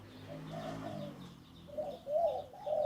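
A red spotted dove gives soft cooing phrases of five notes, the hollow coos rising in short bursts, the later ones louder and closer, with no talking over them.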